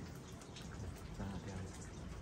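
Rain falling outdoors as a steady, dense hiss of drops pattering on surfaces, continuous and fairly soft, with no clear voices.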